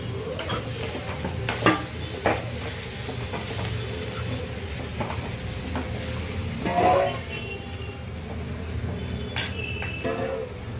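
Fish sautéing in a pan for a kudai melakai curry, a steady sizzle with repeated scraping and clinking of a spoon stirring against the pan, close and continuous, without talk.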